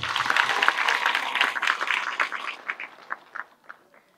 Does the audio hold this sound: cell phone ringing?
no